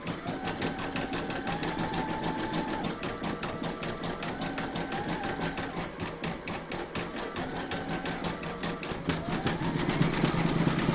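An embroidery sewing machine stitches a llama applique in a hoop, running as a steady fast mechanical chatter with a rising whir near the end, close and alone without talk.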